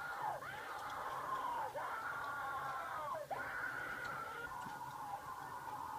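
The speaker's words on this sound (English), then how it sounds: "There's so many screams." Repeated screaming voices from a creepypasta horror compilation, loud and sustained, several overlapping yells with swooping pitch bends and brief dips between them over a distorted noisy background.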